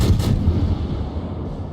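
Warship main-battery guns from a Hindenburg-class cruiser in World of Warships fire in a heavy double boom, followed by a long low rumbling decay with no voices.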